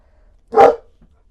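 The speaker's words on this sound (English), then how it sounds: "He likes to bark." A large dog, nearly five years old, gives one short, loud bark at close range indoors, with near silence before and after.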